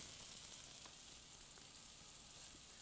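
Turkey patties fry in a pan, giving a steady, soft broadband sizzle with faint crackles throughout and no voices.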